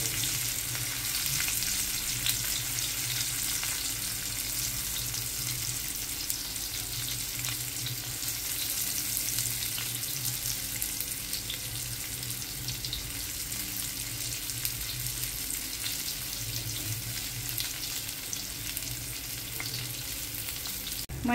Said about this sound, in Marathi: आपलं तेल बऱ्यापैकी गरम झाले। आता आपण ह्याच्यात एक एक भेंडी अशी टाकून घेऊ